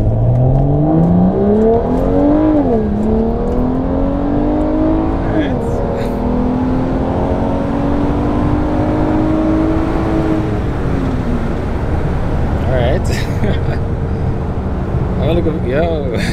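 A tuned BMW E90 335i with an MHD Stage 2+ tune accelerates hard in sport mode, its engine note climbing in repeated rising sweeps broken by gear shifts, loud and heard from inside the car.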